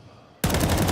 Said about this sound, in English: Spam goes through. Warning shots, but Flame still moves forward